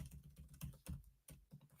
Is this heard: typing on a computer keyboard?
yes